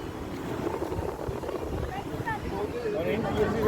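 Strong sea wind at Kanyakumari beach buffets the microphone with continuous rough rushing and rumbling, with faint voices in the background.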